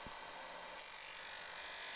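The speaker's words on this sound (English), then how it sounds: "I'm using the disc sander" Disc sander grinding scrap wood, a steady high-pitched whirring rasp that runs unbroken and close for the whole couple of seconds with no voices.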